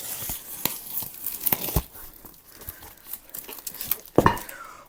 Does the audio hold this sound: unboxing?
yes